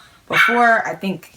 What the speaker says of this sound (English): Sorry if you hear a dog barking in the background.